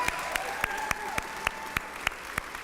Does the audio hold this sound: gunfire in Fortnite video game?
no